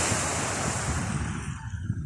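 Pacific Ocean surf breaking on a beach, with wind buffeting the microphone: a loud, continuous wash of crashing waves that eases slightly toward the end, with no voices.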